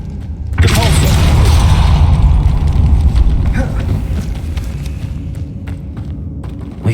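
A Depulso force spell is cast in Hogwarts Legacy and lands with a sudden heavy whoosh and thud, followed by a loud rumbling roar that slowly fades over several seconds.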